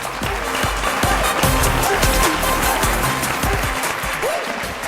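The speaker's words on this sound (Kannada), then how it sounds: "ಬಲಿ ಜೋರಾದ ಚಪ್ಪಾಳೆ." A studio audience at a televised Kannada folk singing reality show bursts into sustained applause, dense and fairly loud, with scattered sharper claps and a faint tone of background music beneath.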